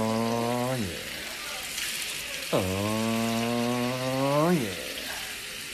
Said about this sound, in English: Put in this pan right here. And the moment of sear.